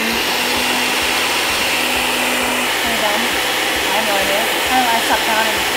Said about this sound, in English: And then blend on high for 45 seconds.